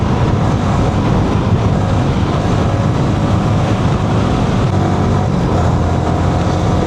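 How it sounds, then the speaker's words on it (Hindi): Dense traffic on a main highway in Vietnam, many motorbikes streaming past in a loud, continuous roar without clear breaks. "मेन हाईवे है ये और मेन हाईवे पे देखो कितनी बाइकें हैं।"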